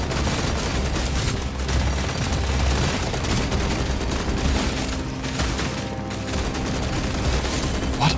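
Dense, continuous gunfire and explosions from the video game Deep Rock Galactic Survivor, rapid overlapping shots and booms running loud and steady throughout with no pauses.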